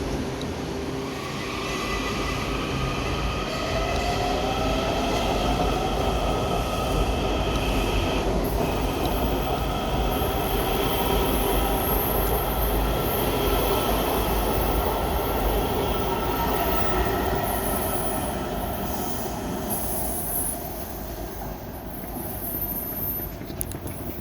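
A Washington Metro Silver Line train rumbles steadily along a curved elevated viaduct for a long stretch, with metal wheels squealing high on the rails throughout.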